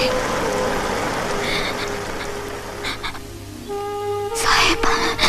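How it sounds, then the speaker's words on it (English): Rain falls steadily in a film scene, a dense hiss with a low hum beneath, easing partway through as faint voices and brief tones come in near the end. "Yes, it's raining."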